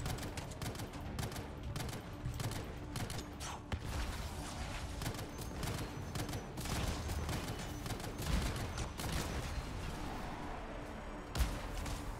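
Rapid, dense pistol fire from a legendary sidearm in the 2019 game Anthem, a continuous crackle of shots and impacts running the whole time with a sharper burst near the end, loud and close.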